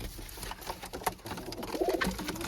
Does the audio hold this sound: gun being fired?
no